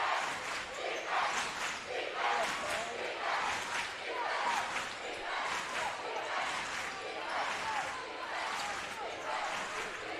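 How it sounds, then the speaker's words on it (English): A crowd at a high school boys basketball game in a gym cheers and roars continuously near the end of the game. Its excited noise swells in waves and sounds fairly close and loud. "Crowd getting into it."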